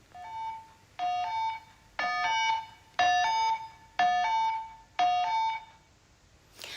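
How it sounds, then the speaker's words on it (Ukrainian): A Ukrainian civil alert signal warning of street fighting, sounding as six evenly spaced two-tone electronic beep bursts about once per second, clear and fairly loud, with no talk. "Ось це повідомлення про вуличні бої."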